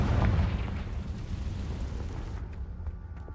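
A Confringo blasting spell detonates in Hogwarts Legacy, a loud booming explosion with a rumbling tail that fades slowly over a few seconds.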